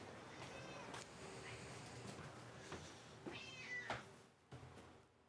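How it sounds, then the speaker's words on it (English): A house cat meows to be fed, several short cries spread across a few seconds, fairly close, with a quiet background and faint talk at moments. "I hope everybody can hear how much you begged."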